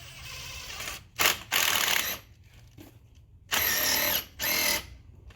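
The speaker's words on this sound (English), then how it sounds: "big old rotary hammer to put our pilot holes in the concrete" A big rotary hammer bores pilot holes into a concrete patio for heavy anchors, four loud broadband bursts of hammering drill noise, each about a second long, separated by quieter pauses.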